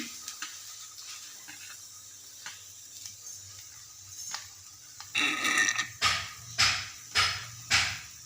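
Orange peel sautéing in a pan, quiet at first, then a run of loud, rhythmic scraping and sizzling strokes close by as the peel is stirred.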